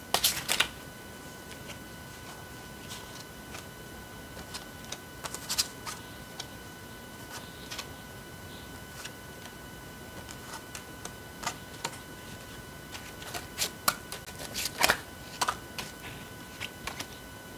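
Tarot cards are handled during a reading: soft slaps, flicks and shuffling clicks come at irregular intervals over a steady low hiss, fairly close and quiet, with a couple of brisk bursts near the start and toward the end.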